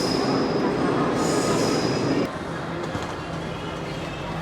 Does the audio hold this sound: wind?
no